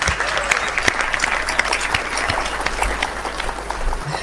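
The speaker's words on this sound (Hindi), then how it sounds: "आप ताली वाली बजाना मेरी कविता पे, हाँ जरूर बजाना।" An audience at a Hindi poetry recital applauds a poem, with steady, dense clapping from a large crowd throughout and sharp individual claps standing out near the front.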